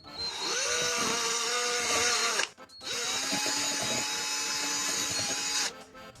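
Prepared epoxy resin is whisked with a powered mixer in two steady, loud buzzing bursts separated by a short pause, the motor tone rising as each run starts.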